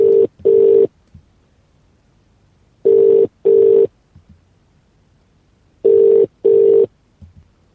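Telephone ringback tone on a call to a Vodafone number: three pairs of steady electronic double beeps separated by about two seconds of silence, close and clear, with no talking.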